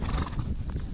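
A horse on a farm in spring whinnies loudly and close by. Hooves clip-clop briefly under the call.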